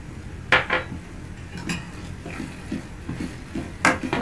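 A spoon stirs semiya kesari in a pan, giving scattered metallic scrapes and clinks at an irregular pace over a soft background.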